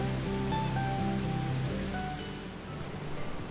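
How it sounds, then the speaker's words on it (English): Niagara Falls gushes in a continuous low, thundering roar of falling water, heard from indoors with a steady rumble and faint tonal hum, no voices present. "you can feel the walls rumbling and the constant thundering sound of the gushing water"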